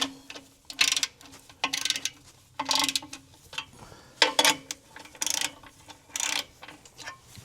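A ratcheting wrench tightens a 3/8-16 bolt on a truck, with repeated bursts of close, sharp clicking in an uneven rhythm across several seconds and no talk.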